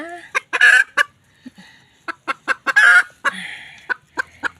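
Chickens cluck nearby in short, irregular bursts while eggs are collected from their nest, with a couple of louder, drawn-out squawking cackles between quieter clucks.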